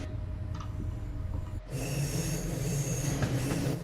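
A train in Train Sim World 5 on the Kinzigtalbahn line departs, rumbling along the tracks, a quieter hum giving way abruptly to louder, steady wheel noise with faint squeals and clicks.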